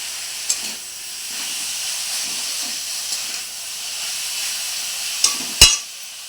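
Flattened rice with green chilies frying in oil, giving a soft, steady hiss while being stirred, with a couple of sharp utensil taps near the end.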